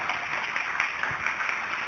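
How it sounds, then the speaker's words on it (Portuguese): Church congregation applauding for Jesus, a steady, moderately loud wash of many hands clapping that holds evenly for about two seconds. "E vamos aplaudir o Senhor Jesus."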